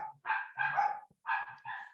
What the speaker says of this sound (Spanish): Mi perro.